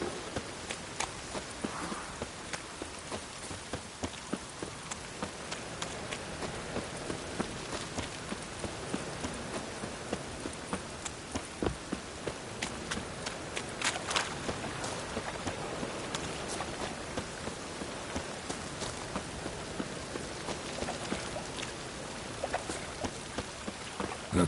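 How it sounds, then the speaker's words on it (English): Rain in a PS4 video game, a steady, hissing patter of drops that runs for the whole stretch, with faint clip-clop-like thuds underneath and no speech. "Looks like rain."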